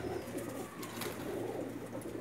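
Pigeons coo softly in a loft, low throaty rolling calls repeating in an uneven rhythm over a constant background hum.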